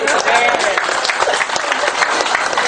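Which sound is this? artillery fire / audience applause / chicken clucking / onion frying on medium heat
audience applause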